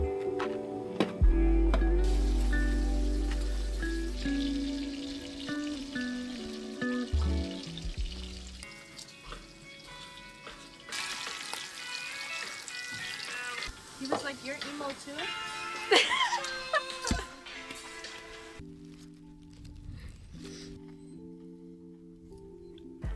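Bacon sizzling in a pan at a car-camping site, a steady frying hiss running under ongoing talk and some music-like tones, with occasional crackles.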